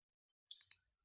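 A mouse button clicked on an apply button in software, two quick faint clicks close together and alone in near silence.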